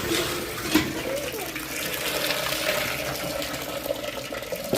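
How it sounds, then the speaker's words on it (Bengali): Water runs steadily from a tap while homemade paneer is washed by hand, a continuous close splashing hiss with occasional small splashes. A voice talks quietly underneath. "জলে আমি পনিরটা এইগুলো খুব ভালো করে ধুয়ে নেব, তাহলে এর টক ভাবটা কেটে যাবে"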